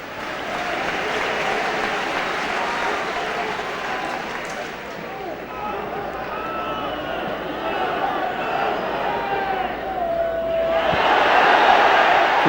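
Football stadium crowd at a UEFA Cup match between Ipswich Town and Torpedo Moscow, a steady distant roar of many voices that swells at the end as fans appeal for a penalty, with a commentator talking over it.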